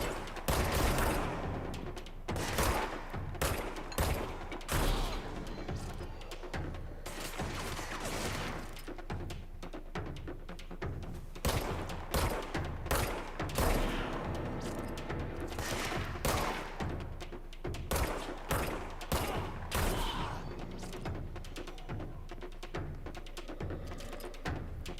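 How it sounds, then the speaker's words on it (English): Dense, rapid bursts of gunfire from the video game Control, with volleys and single shots fired in quick succession throughout and no pauses long enough to go quiet. "Good shooting, Tex."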